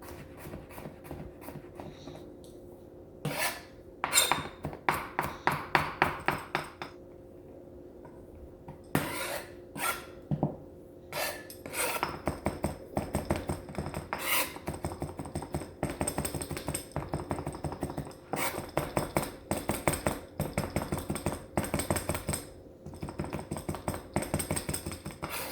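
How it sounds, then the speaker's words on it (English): A sharp knife mincing a single garlic clove on a cutting board, short bursts of quick rhythmic tapping chops separated by pauses, then a longer steady run of close, crisp strokes. "1 little clove of garlic, minced up, diced up."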